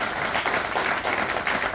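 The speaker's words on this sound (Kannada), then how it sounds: "ಒಂದ್ಸಲ ಜೋರಾಗಿ ಚಪ್ಪಾಳೆ ಅವ್ರು." A crowd at a conference claps loudly and steadily for the whole short stretch, dense applause with no voices over it.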